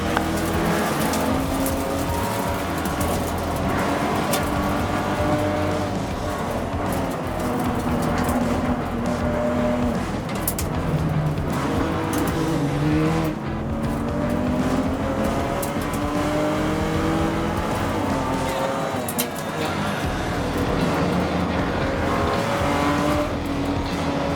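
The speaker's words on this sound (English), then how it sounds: "Then it's Catania, who got that great jump from 5th, now runs 3rd in the white BMW" Race cars accelerating in a TC America field at the start at Sonoma Raceway, a steady loud roar of many engines at close range with layered revving pitches, occasional tire squeal, and no talk.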